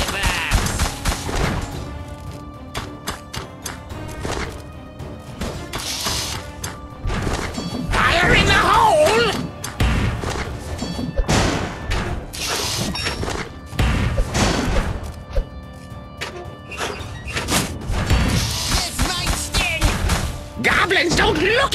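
Dense, repeated explosions, crashes and impact blasts from the tower-defense game Kingdom Rush Vengeance fill a long stretch of loud, chaotic battle noise with barely any pauses.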